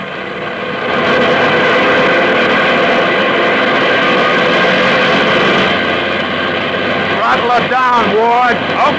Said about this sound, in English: Plane's all ready for a takeoff, Martin.